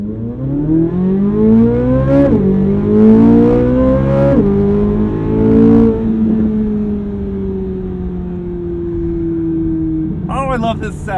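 2023 Chevrolet Corvette Z06 with a flat-plane V8 in its loudest engine-sound setting revs up in repeated rising pulls between gear shifts, then settles into a steady high drone, loud and close, with a brief voice near the end.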